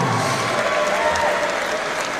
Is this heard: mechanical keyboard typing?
no